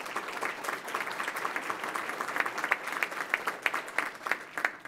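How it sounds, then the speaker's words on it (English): Steady crowd applause fills a conference hall at a Columbus Metropolitan Club event, dense clapping from many hands with sharper individual claps popping out, moderately loud throughout. "Let's give them a round of applause."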